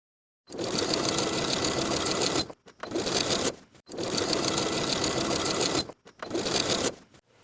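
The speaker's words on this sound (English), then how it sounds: "I'm going to sew right above the skirt gathers along the waistband from one side to the other" A sewing machine stitches along a dress waistband just above the skirt gathers, running in steady rapid bursts with brief pauses between four runs, close and clear with no talking.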